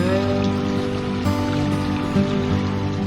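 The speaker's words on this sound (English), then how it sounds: "So this is a concrete mortared type of a waterfall" A concrete mortared waterfall pours into a shallow backyard pond in Michigan, giving a loud, steady splashing rush that runs close and unbroken throughout.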